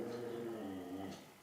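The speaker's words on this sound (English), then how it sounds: "sorry, that's one of my dogs." A grumpy small dog growls low and continuously for about a second, close by and moderately loud, ending with a faint whine.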